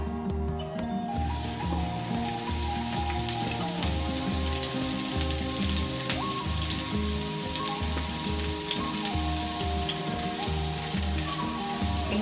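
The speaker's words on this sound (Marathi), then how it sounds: "मस्त तेल टाकून घेतले मी बघू शकताय मी कांदा टाकते आता पहिला" Chopped onion frying in hot oil for a spicy bombil (Bombay duck) chutney, a steady unbroken sizzle with a low hum beneath it, close and fairly loud, with no voices.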